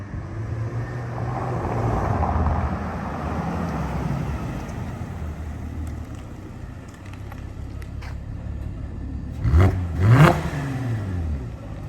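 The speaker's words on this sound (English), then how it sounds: "Give me some revs, Jerick." A Porsche Cayenne 955 V6 engine with a muffler bypass idles steadily, then revs sharply twice near the end with a throaty, loud roar.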